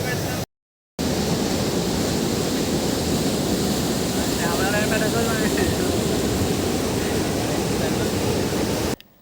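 Muddy brown flood water pours over Rajupalem waterfall, a loud continuous roar of rushing water heard close by, with a brief dropout near the start.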